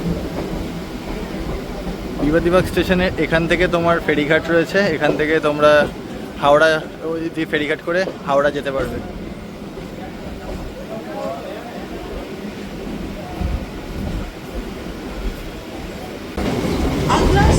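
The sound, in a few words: local train entering Bibadibag station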